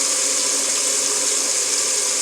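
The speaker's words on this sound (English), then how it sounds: "I'm filling up with warm water" Warm water runs hard from a kitchen tap into a bucket standing in the sink. The splashing rush is loud and constant, with no talk over it.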